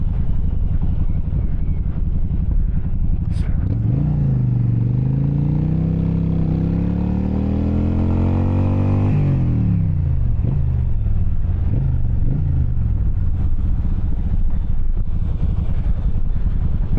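A Yamaha V-Star 1100 cruiser motorcycle rides along, its engine rumbling and rising in pitch as it accelerates, then dropping off as it slows. Steady wind noise runs throughout with no talking.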